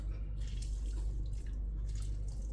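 Juice drips and trickles as two lemons are squeezed by hand during grilled chicken and fish preparation, a soft continuous watery patter heard close with a low background hum.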